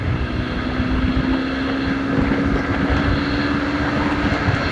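A Honda Hornet 160 motorcycle engine drones steadily while accelerating, its note holding through a gear run, heavily buffeted by loud wind rush across the microphone.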